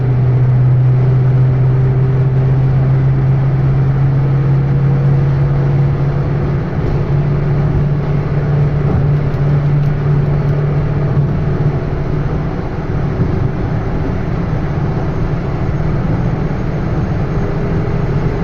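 An SLX car engine accelerates in fourth gear with a loud, steady interior drone and low hum that continues throughout, alongside road and wind noise, with no speech.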